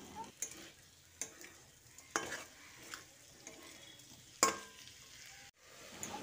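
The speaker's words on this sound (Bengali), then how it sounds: "চিনিটা দেওয়ার পর সমস্ত সবজির সঙ্গে আরও একবার ভালো করে মিশিয়ে নিচ্ছি" A spoon stirs mixed vegetable curry with sugar in a pan, scraping the bottom in irregular strokes. A soft sizzle of frying runs between the stirs, with one louder scrape partway through.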